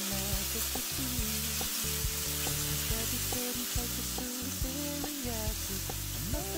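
Sauce for Chinese-style steamed squid with vermicelli stir-fries in a pan, giving a steady close sizzle under sustained tonal music for the whole stretch.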